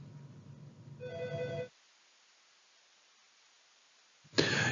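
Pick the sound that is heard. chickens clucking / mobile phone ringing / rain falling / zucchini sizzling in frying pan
mobile phone ringing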